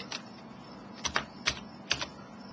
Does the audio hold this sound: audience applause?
no